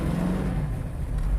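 A 1966 Shelby GT pulls away in first gear, its engine giving a short, close, low rumble as it builds revs.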